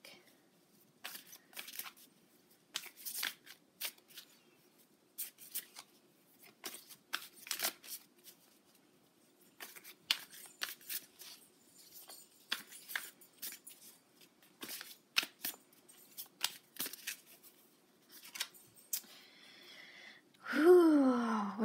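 Tarot cards from a moon deck being shuffled by hand in a quiet room, soft riffling bursts repeating irregularly over about twenty seconds, followed at the end by a loud exhaled breath.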